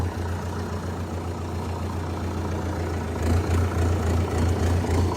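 A Sonalika RX 60 tractor engine idles nearby, a steady low diesel rumble and thrum that swells slightly louder partway through, with no talking.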